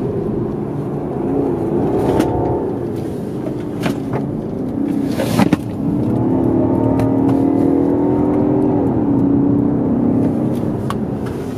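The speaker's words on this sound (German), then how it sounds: "Fahren wir ein bisschen zügiger. Auto liegt gut am Gas." A BMW G31 530xd Touring diesel estate with an eight-speed ZF sport automatic accelerates briskly on the road, its steady engine drone rising in pitch through the gears with a brief thump midway, heard from inside the cabin.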